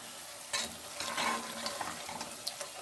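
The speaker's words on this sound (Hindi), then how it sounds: "3 से 4 मिनट अच्छी तरह भूनना है" Ginger and green chillies frying in a pan, a soft sizzle broken by scraping stir strokes and clinks of a spoon at an uneven rhythm, close and moderately loud, without talking.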